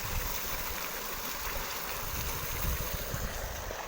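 Irrigation water gushes from a tank into the channels of an onion field, a steady, close, broadband rushing that holds level throughout with no voices.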